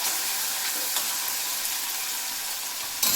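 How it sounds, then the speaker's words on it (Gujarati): Tomato curry with salt and turmeric being stirred in a pan, a steady close sizzle and frying hiss running throughout with faint scraping of the spoon and a brief louder clatter near the end. "બરાબર હલાવી લઈશું"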